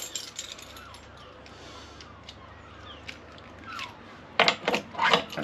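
A key turns in an Alco hitch lock: faint scraping and rubbing first, then a few sharp, close metallic clicks and ratcheting snaps near the end, with no voices.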